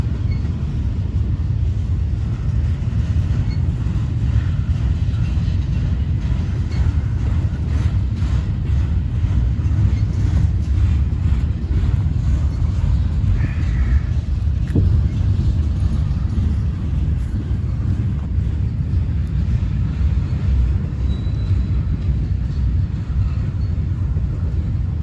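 CSX intermodal container train rolling slowly past in Fostoria, Ohio, a loud steady low rumble and roar of wheels and cars that holds constant with no breaks, heavy in the low end and close by.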